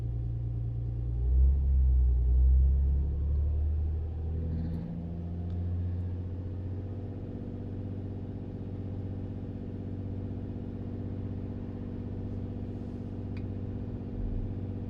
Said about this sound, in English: now let's do the 2000 RPM test and see where we're sitting